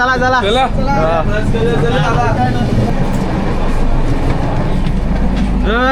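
Moving passenger train running from Mumbai to Prayagraj, a steady loud rumble and rattle of the carriage throughout, with people talking and calling greetings over it.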